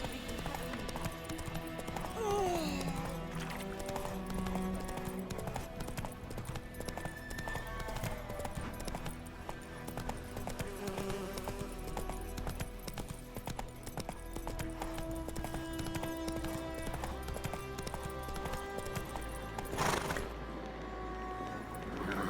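Horse hooves clip-clop steadily at a gallop in The Witcher 3, the rhythmic beats running close and continuous throughout, with an occasional whinny and soft mechanical clinks layered in.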